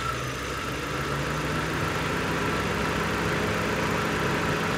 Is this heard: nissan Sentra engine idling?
yes